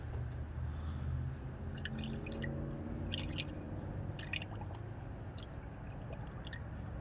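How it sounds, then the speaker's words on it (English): Coolant trickles slowly into a car radiator being topped off, a soft continuous liquid pour with a few faint drips and splashes over a low steady background. "I'm going to go ahead and just top it off with coolant"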